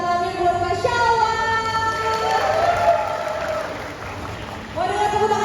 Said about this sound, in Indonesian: Coba mau kasih dengar tepuk tangannya buat Kak Shalwa.